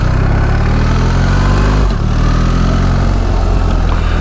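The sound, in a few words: BMW R1300 GS boxer twin motorcycle shifting gears with quick shifter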